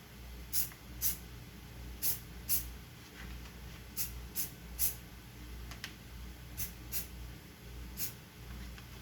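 Short bursts of spray paint hiss on a model truck cab part repeat irregularly, about a dozen quick sprays over a quiet low background hum, each lasting a fraction of a second.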